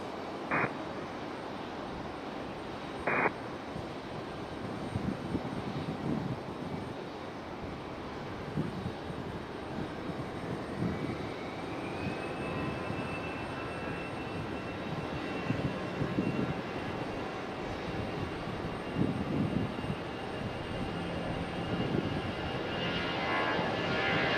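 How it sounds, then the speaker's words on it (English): An Airbus A319 jet departs Raleigh-Durham airport, its engine roar building steadily across the whole stretch with a rising whine, heard from a distance over outdoor ambience with a few sharp clicks near the start. "we do have an A319 up for departure"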